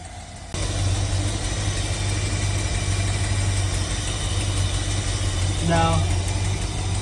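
An old Winnebago motorhome engine, left parked for over 25 years, idles steadily after starting abruptly, with a continuous low hum and light valve train ticking. A voice speaks briefly over it.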